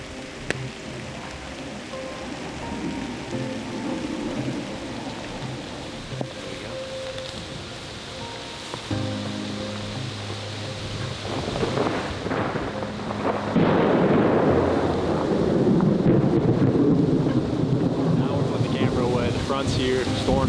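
A thunderstorm with heavy rain rumbles and roars over wind buffeting a microphone, the downpour growing louder and denser toward the end, with a voice talking at moments.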